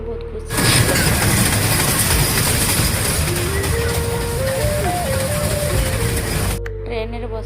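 A running train makes a loud, continuous rumble heard from inside a carriage. It starts abruptly and eases off near the end, with a faint stepped melodic tone rising over the noise in the middle.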